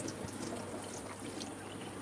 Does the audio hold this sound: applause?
no